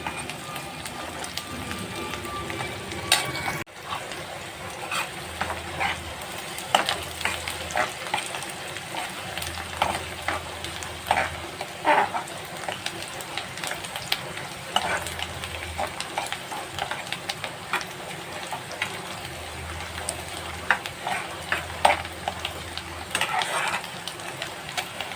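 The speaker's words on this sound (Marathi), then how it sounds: "आता चांगला परतून घेऊया." Onion and curry leaves sautéing in a pan for a dry prawn dish: a steady, soft sizzle and crackle with occasional stirring scrapes, running alone at low volume throughout.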